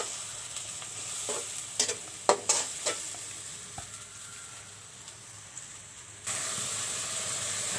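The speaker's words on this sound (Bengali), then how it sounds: "একটু কষিয়ে নিব মশলাগুলো।" Spices sautéing in hot oil in a pan for a prawn-head and sweet pumpkin curry, a steady close sizzle and hiss with several sharp scraping stirs of a spatula early on and a louder burst of frying near the end.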